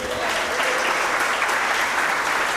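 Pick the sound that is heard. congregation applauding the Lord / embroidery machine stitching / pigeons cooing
congregation applauding the Lord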